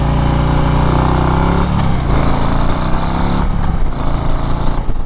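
A 2024 Harley-Davidson CVO ST motorcycle in sport mode, its engine loud and close with a deep growling roar that rises and shifts in pitch as the throttle is worked, steady throughout with no talk.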